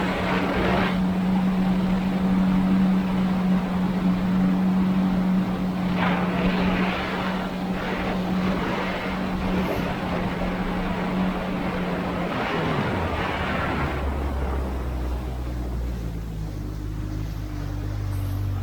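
Kawasaki Ultra 160 LX-S jet ski fitted with a 16/21 impeller, running in medium power mode: a loud, steady engine drone with splashing water, the pitch dropping and settling lower near the end as the throttle eases off.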